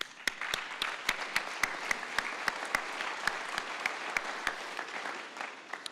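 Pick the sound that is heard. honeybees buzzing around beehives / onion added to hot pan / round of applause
round of applause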